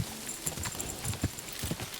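Horse hooves clip-clopping at a quick pace on a dirt path in the medieval game Kingdom Come: Deliverance 2, irregular close thuds over a faint ambient bed.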